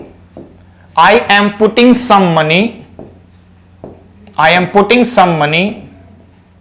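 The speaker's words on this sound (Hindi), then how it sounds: "अब देखो मैं लिख रहा हूं" A board is written on during an English grammar lesson. Faint scratchy strokes show in the pauses, while a teacher speaks loudly in two long stretches.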